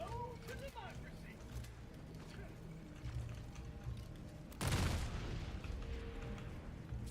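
A grenade goes off in a shooter video game as a sudden loud boom with a rumbling tail, heard over steady game noise and gunfire; people talk earlier in the stretch.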